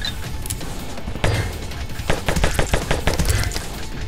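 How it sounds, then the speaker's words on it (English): Rapid bursts of projectile fire in the video game Xolta, a dense rattling volley of sharp repeated shots over a steady game soundscape, no talk. "I'm shooting frisbees of death, baby!"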